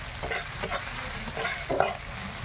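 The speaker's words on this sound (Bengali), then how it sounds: "আমি টমেটো আর পেঁয়াজটা একসঙ্গে দিয়ে দিয়েছি," Tomato and onion frying together in a pan, a continuous close sizzle with repeated scraping stirs from a spoon.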